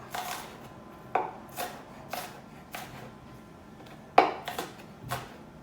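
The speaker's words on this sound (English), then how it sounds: "Make the same size cuts, and you're going to end up with little pieces of onion all diced up." A knife dicing an onion on a cutting board, about eight separate crisp chops spaced irregularly, close and fairly quiet over a low room hush, with no speech.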